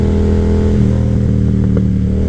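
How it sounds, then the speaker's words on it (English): Yamaha FZ-07 motorcycle engine and exhaust running steadily at low RPM on a road, a loud continuous low rumble with slight fluctuations throughout, no talking. "man, I can never get enough of those burbles."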